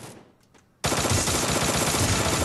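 Sustained automatic gunfire in the Free Fire battle royale game bursts in abruptly after a quiet opening, loud and dense, with rapid rattling shots continuing without pause and no voices.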